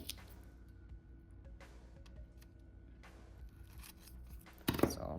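Scissors cut animal-print nail foils in a few sparse, quiet snips spread over the moment, followed by a brief louder rustle of handled foil near the end.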